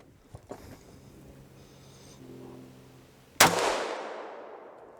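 A single sharp, loud Ruger AR556 rifle shot at an outdoor range, with a long decaying echo trailing off after the crack and quieter handling noises before it.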